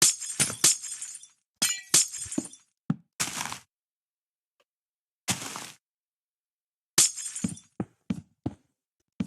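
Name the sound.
glass blocks breaking in the video game Minecraft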